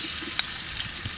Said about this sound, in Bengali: মশলাগুলো তৈলের সাথে কষে নিব।